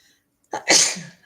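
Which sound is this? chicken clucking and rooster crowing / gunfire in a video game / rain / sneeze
sneeze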